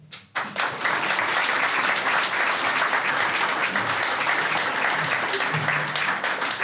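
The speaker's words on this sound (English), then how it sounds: "Please, can you give a warm round of applause to Gabriel Raimondo." An audience at a launch event bursts into warm applause after a brief quiet start, the clapping dense and steady through the rest, with a faint voice or two underneath.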